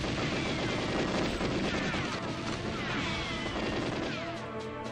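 Gunfire in the GoldenEye video game rattles in dense, continuous bursts, loud and sustained across the whole stretch with crashing impacts layered on top.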